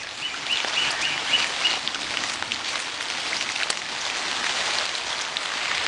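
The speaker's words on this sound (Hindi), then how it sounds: "अभी भी बारिश हो रही है।" Steady cyclone storm rain falls with a dense, even hiss, with occasional drips and faint bird chirps in the background; no one speaks.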